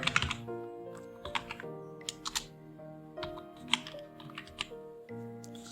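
Typing on a computer keyboard while entering a filename for a new Notepad text document, heard as a quick scatter of soft clicks over a humming, tonal background.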